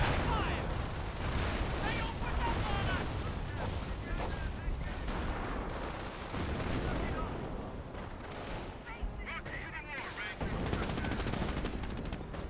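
A dense, continuous barrage of artillery airbursts and gunfire in the Company of Heroes World War II strategy game, loud overlapping booms and rattling shots filling the whole stretch with no pause.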